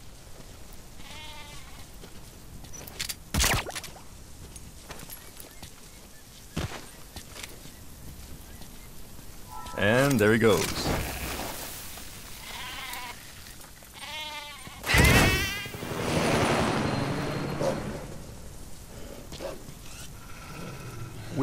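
A goat separated from its herd bleats several times in Metal Gear Solid V: The Phantom Pain, wavering cries rising over ambient game sound and footsteps, with a voice speaking briefly.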